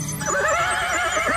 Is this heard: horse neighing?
yes